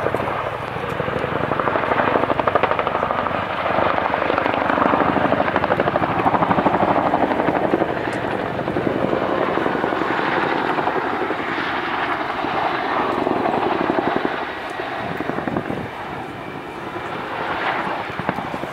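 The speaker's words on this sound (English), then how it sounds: "we can see the Chinook making its approach to the centre of the field for the Morgan turn" An RAF CH-47 HC2 Chinook twin-rotor helicopter at a RIAT flying display makes a loud, sustained rotor thrum and engine drone that eases slightly near the end.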